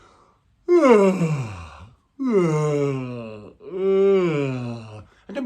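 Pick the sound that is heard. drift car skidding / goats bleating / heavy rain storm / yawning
yawning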